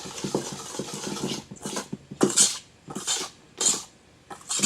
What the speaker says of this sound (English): I'm going to give that a bit of a whisk just to mix it all up